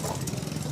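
A newspaper distributor's motorcycle engine putters steadily up close in a short, rough, mid-pitched burst.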